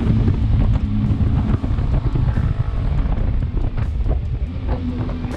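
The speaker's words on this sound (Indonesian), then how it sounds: "sensasi raungan mesin 2 silinder yang rasa 4 silinder itu memang ngebuat kita pengen gaspol terus nih" Twin-cylinder engine of a Benelli TRK 502X adventure motorcycle roars steadily while riding, its low throb partly buried under heavy wind rumble on the microphone, with no talking.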